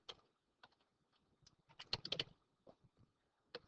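Fingers typing on a computer keyboard during an Excel class lab make quick, close clicking keystrokes in uneven bursts, with a dense flurry in the middle and single taps around it, quiet and without talk.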